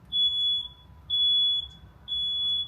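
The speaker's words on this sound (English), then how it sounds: "You can only hear the chirping, not from birds, the smoke detector, which isn't of much use anymore." Smoke detector in a tornado-damaged house in West Michigan, sounding three evenly spaced, long, piercing high-pitched beeps, loud and clear with nothing else around them.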